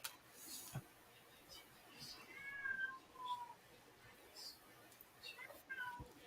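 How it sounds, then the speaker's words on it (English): A house cat meows faintly a few times amid quiet room noise, soft and somewhat distant, with people talking in the background. "Here's somebody's kitty, Wayne."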